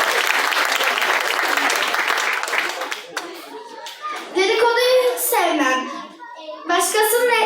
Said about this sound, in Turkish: Şimdi tekrar bir alkış alalım.